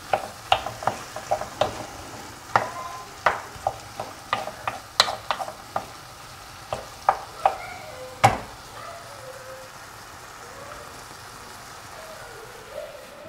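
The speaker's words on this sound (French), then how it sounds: "Pendant que nos tomates mijotent à feu doux derrière moi" Tomatoes simmering over low heat in a pan for a homemade tomato sauce, with a string of sharp clicks and taps from utensils and pan over a soft low background bubble; it settles to a quiet simmer in the last few seconds.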